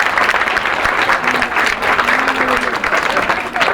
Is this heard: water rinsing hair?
no